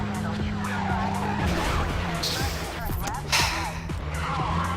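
Car engine drones and tires skid and squeal through cornering in the racing game Midnight Club 2, with a steady loud mix and repeated screeching bursts.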